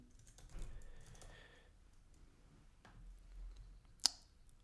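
Soft, quiet taps from typing on a computer keyboard come in small bursts, with a sharper click near the end.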